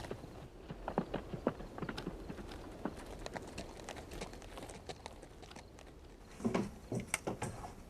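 Horses clip-clop on hard ground in a Western film scene, a run of close, uneven hoof strikes that grows into a quicker, louder cluster near the end, with no talking.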